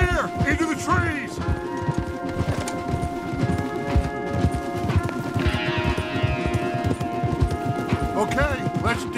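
Several horses gallop hard in Red Dead Redemption 2, a dense rapid drumming of hooves with occasional whinnies, while voices talk over the ride.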